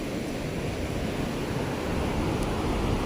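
Sea waves wash in continuously at Perupalem beach, a steady broadband rush of surf with some wind buffeting the microphone.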